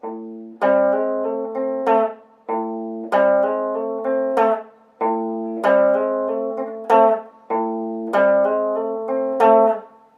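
A clean, plucked rockabilly electric guitar riff repeats in short chordal phrases with a steady rhythm, each note ringing briefly before the next, played alone.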